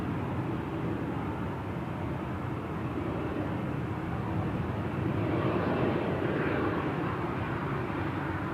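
An airplane at Amsterdam Schiphol Airport's Polderbaan runway makes a steady, broad jet roar that stays loud and continuous, swelling slightly toward the end, with no voices.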